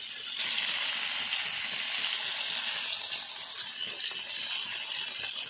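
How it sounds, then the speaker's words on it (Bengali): Chilli chicken fries in a pan with a loud, even hiss of sizzling oil close by, sustained without pause and with no talking. "চলো ভালো করে ভাজা ভাজা করে নিই।"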